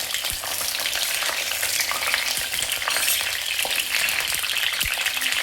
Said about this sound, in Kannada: ಈ ರೀತಿ ಎಣ್ಣೆಯಲ್ಲಿ ಚೆನ್ನಾಗಿ ಫ್ರೈ ಮಾಡ್ಕೋಬೇಕು